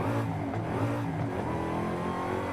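A muscular Ford Mustang engine in the video game Forza Horizon 5 revs and roars continuously up close, its tone wavering as the throttle rises and falls.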